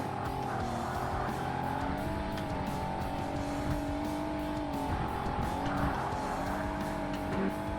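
A Nissan Z32 Fairlady Z races in Forza Motorsport on Xbox, with a steady, loud engine drone shifting in pitch and frequent tire squeal and skidding through corners.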